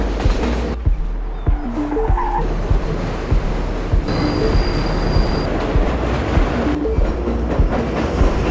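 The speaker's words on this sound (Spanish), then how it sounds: "Baker utiliza los trenes urbanos como símbolo para articular el aire marginal y proletario del barrio de Annie" An urban commuter train passes in a film scene, rumbling loudly and close with rhythmic wheel clatter and brief high metallic squeals riding over the steady roar.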